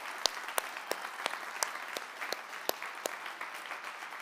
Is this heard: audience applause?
yes